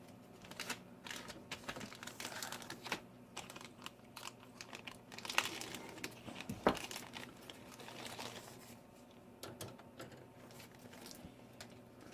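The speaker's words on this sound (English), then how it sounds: "let's cut these bags open so we can have a better view." Plastic bags of chrome parts from a Revell 1965 Chevy Stepside 1:25 model kit are cut open and handled, giving quiet crinkling, rustling and small snips in irregular bursts close by, with no talking.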